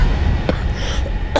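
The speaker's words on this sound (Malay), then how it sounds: "Kan dah terbatuk." Two short, hoarse coughs stand out against a quiet room, the first near the middle and a second just before the end, both fairly close.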